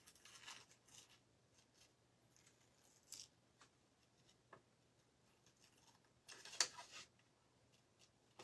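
Scissors snip the decorative antennas off a piece during a cigar box makeover, giving a handful of faint, sparse clicks and cuts in a quiet room, with a sharper burst of snipping near the end.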